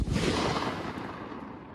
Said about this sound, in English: Our next shell, we're going to Kraken shells by Pro Fireworks Black Diamond.